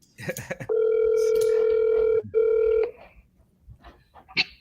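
An outgoing phone call's ringback tone: a steady, loud electronic buzz that holds for about a second and a half, breaks off briefly, then sounds once more before stopping. Faint background noises follow.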